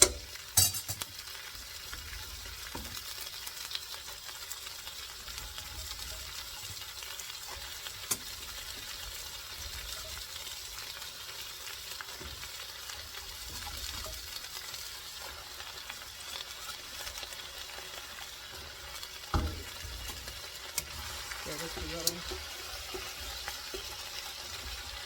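Chopped cabbage frying in an 8-quart pot, a low steady sizzle broken by occasional scraping and clinking of a stirring utensil against the pot, with no voices.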